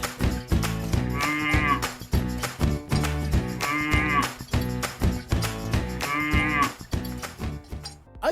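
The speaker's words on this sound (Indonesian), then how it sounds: "makannya rumput, suaranya mo. Hewan apakah aku? Sapi!" A cow moos loudly three times in long, drawn-out calls over a bouncy children's tune with a steady beat, close and clear.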